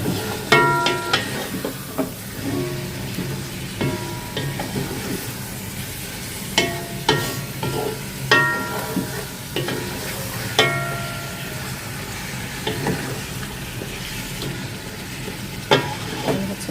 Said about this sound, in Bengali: মশলাটা ভালো করে কষিয়ে তারপর হচ্ছে চিকেনটা দিয়ে দিলাম